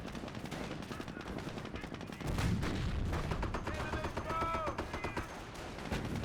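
Mortar fire in the World War II strategy game Company of Heroes, with heavy explosive thumps and crackling bursts layered into dense battle noise, plus tank and infantry fire rattling around them at fairly close range.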